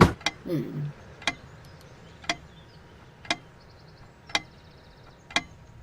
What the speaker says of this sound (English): The ticking begins to feel homey after a while.